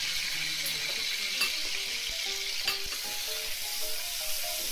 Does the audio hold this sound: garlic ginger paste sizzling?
yes